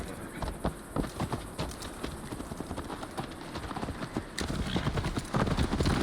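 Steady, rapid clip-clop of hooves from a horse galloping in Assassin's Creed Valhalla, close and continuous, growing slightly louder toward the end, with faint talk underneath.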